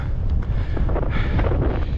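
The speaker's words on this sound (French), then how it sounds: "En fait c'est le vent." Steady, loud wind roars and buffets against the microphone on a mountain hike in the French Alps near La Rosière, with patches of snow around, a continuous rushing noise with no talking.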